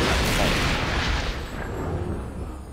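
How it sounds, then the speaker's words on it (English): Big explosion in the video game Neverwinter Nights, a loud, broad blast that hits at once and then rolls off into a long rumbling decay, with no talking over it. "That was a big explosion."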